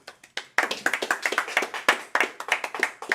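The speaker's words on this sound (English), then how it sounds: "clap it up." A congregation claps hands at the closing of the Feast of Unleavened Bread, starting with a few scattered claps, then breaking into a brisk, loosely rhythmic run of close, sharp hand claps.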